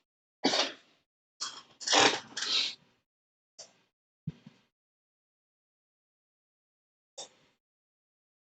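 Several short, sharp sneezes burst out during a quiet moment of a live sports card break, the first few close together, then a couple of softer, isolated bursts with silence between.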